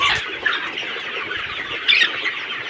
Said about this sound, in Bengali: দেখেন মুরগিগুলো খাবারের জন্য পাগল হয়ে গেছে।